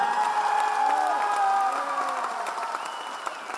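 Audience applause at a wellness company speech event in India, steady clapping from a crowd with faint cheering, a voice or tone line running beneath, fairly loud and continuous throughout.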